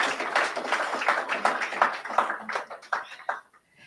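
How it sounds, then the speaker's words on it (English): Round of applause for ministers at an evening diaspora gathering, crisp, fairly close clapping from a modest crowd that thins into scattered claps and stops near the end. "I think we should give them a round of applause"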